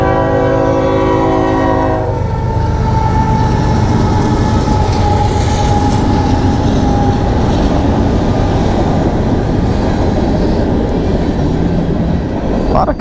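A train roars past close by, its horn sounding at the start, then a loud continuous rumble and clatter of rail cars.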